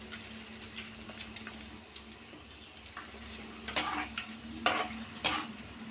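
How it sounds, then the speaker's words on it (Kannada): Gulab jamun dumplings frying in hot oil give a steady soft sizzle throughout, with a few louder crackling bursts near the end. "ಇದನ್ನು ನಾನು ಚೆನ್ನಾಗಿ ಕರಿತಾ ಇದ್ದೀನಿ."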